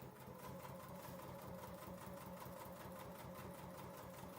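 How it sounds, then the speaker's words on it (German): A sewing machine runs steadily, sewing a 3 mm straight stitch along the top edge of a cork fabric shopper bag, its motor hum and rapid needle clatter continuous and close with no pauses. "Den oberen Rand schließe ich jetzt mit einem 3 mm Geradstich."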